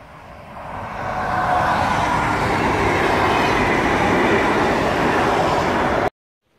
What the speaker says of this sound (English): we're just next to the train tracks